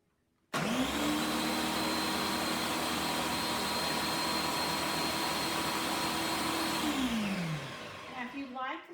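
A kitchen blender chops canned tomatoes for soup, starting abruptly with a loud, steady motor roar that runs for several seconds before winding down near the end.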